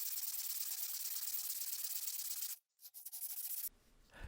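Damage being sanded off the metal of a Marlin 1881 lever-action rifle, a steady close scratchy rubbing that runs continuously, then stops briefly before a few short strokes resume.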